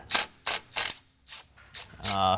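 Ratchet wrench working a 10mm nut on a BMW 135i power steering line, several loud close clicking bursts in an uneven rhythm, ending in a longer grinding turn, with no talking.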